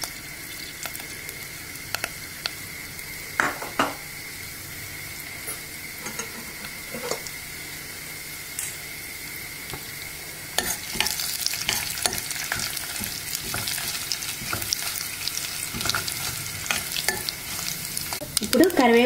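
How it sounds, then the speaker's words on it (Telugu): Dried red chillies and tempering spices fry in a few spoons of hot oil for a buttermilk curry, a soft, continuous sizzle with scattered spoon stirs and clinks against the pan, growing busier and louder partway through. "ఇప్పుడు ఈ తాలింపు దినుసులన్నీ కూడా వేసేసుకుందాం."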